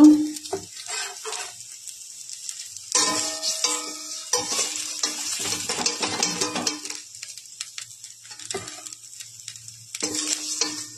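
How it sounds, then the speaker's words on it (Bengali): Masoor dal and mustard flower pakoras fry in oil. Bursts of crackling sizzle alternate with quieter gaps, and utensils clatter and scrape as the fritters are stirred and lifted out. No talking. "ভাজা হয়ে গেছে, উঠিয়ে নেব।"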